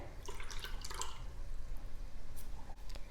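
Lemon juice is poured into strained banana leaf juice in a home kitchen, a faint liquid trickle and splash over steady background hum, with no one speaking.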